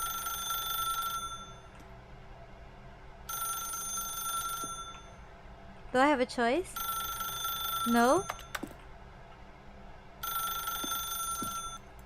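Telephone in the video game The Stanley Parable rings in repeated bursts of bright electronic trilling separated by pauses, while a person speaks between rings.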